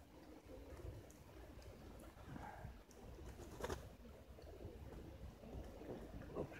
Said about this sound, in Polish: Gołębie poprzychodziły.